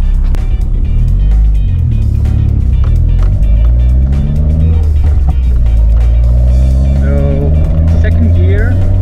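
A car accelerates through the gears before its fuel injectors are cleaned, the engine note rising and falling in loud harmonic sweeps, close up inside the cabin, with a voice talking over it.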